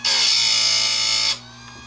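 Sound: sharpening chainsaw chain teeth with a file

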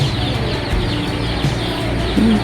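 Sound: chickens clucking

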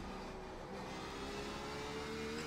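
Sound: race car engine over-revving in iRacing video game

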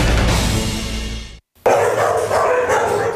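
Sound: stray dogs barking at a shelter

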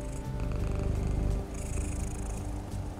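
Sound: voice imitating a cat purring

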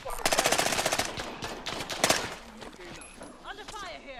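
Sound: gunfire in a video game

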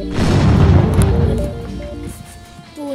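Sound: explosion in a Roblox Piggy video game

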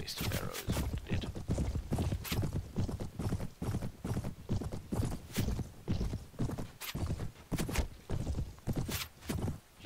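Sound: horse hooves clip-clopping in Mount & Blade video game

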